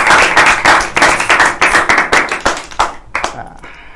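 Close, loud hand clapping from a talk-show audience welcoming an invited ustadz guest at a mosque gathering, a quick uneven burst of individual claps lasting a few seconds before tapering off into quiet.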